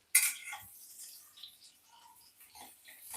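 Garlic, curry leaves and onion dropped into hot oil for a tempering: a sharp clatter as they hit the pan, then a soft, steady sizzle with light scraping, fairly quiet overall.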